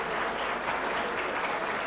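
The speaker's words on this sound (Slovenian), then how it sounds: "Tako je prav, da potrdimo njihovo znanje z aplavzom." An audience at a school graduation ball in Zreče applauds the dancers after a quadrille, a short, even burst of many hands clapping together at moderate distance.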